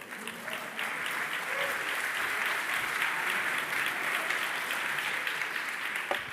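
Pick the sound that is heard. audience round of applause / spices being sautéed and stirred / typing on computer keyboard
audience round of applause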